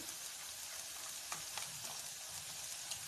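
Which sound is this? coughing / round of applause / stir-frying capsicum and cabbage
stir-frying capsicum and cabbage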